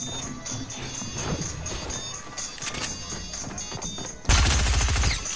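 Fortnite gunfire rattles in quick bursts through a busy mix of game effects, ending in a loud, rapid stream of shots; a voice can be heard faintly beneath.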